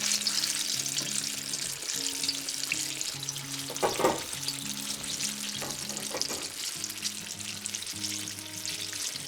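Fritters frying in oil, a steady bubbling sizzle with a brief sharper burst of crackling midway, set against a quiet repeating background melody.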